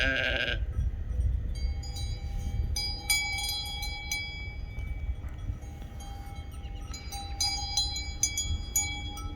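A ewe bleats close by amid a busy outdoor background with bright chiming tones and steady low rumble; the bleats come in scattered bursts.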